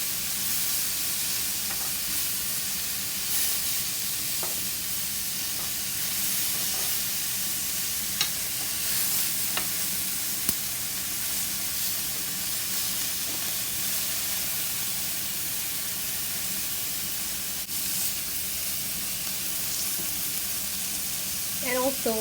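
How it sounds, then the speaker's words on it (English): Beef kebabs sizzle in oil in a pan as they are turned, making a steady, even hiss and crackle that lasts throughout, with a few soft clicks from the turning. "if you see the glazes here, it's the oil that's coming out of the kebab. And I'm just turning all of the kebabs"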